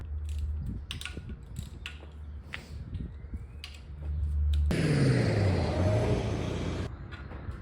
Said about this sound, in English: So much traffic today.